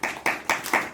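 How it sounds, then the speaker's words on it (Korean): Audience at an award ceremony clapping in unison, five sharp, evenly spaced rhythmic claps in quick succession, crisp and fairly close. "박수 먼저 쳐주셔서 감사합니다."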